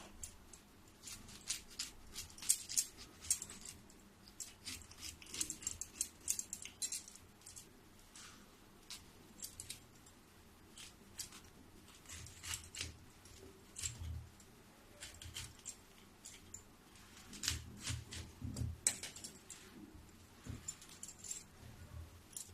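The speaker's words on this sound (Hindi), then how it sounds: "अब ये जो फूल गोभी है, ये फूल गोभी को मैं छोटा छोटा टुकड़ा में काटूंगी।" Cauliflower florets being cut into small pieces on a kitchen board, a faint, irregular run of light knife taps and clicks scattered across the stretch with quiet gaps between.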